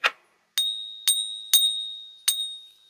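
After a brief click, a silver coin tested for authenticity rings out four times at uneven intervals, each strike a sharp, close metallic ping with a sustained high tone that decays gradually.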